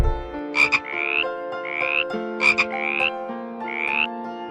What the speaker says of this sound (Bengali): ইঙয়ে ব্যাঙ।